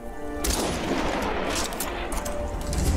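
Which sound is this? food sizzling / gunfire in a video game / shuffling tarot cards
gunfire in a video game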